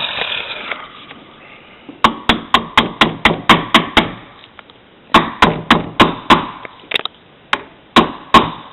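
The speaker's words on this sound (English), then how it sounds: "Now just hammer it down a little bit." Rapid metallic hammer taps drive a pin into a Western Field 12 gauge pump shotgun, ringing out in two quick bursts of about eight strikes each, with a few stray taps trailing at the end.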